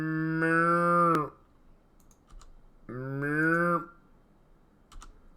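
Two long, loud cow moos with rich harmonics in the medieval village game Medieval Dynasty, separated by a quiet gap with light keyboard clicks, no speech.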